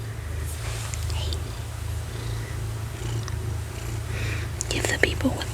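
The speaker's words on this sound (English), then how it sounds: "Hopefully y'all can hear him purring because I've gone silent." A low, steady purr rumbles continuously throughout, close by, with a few faint soft rustles and light sounds on top.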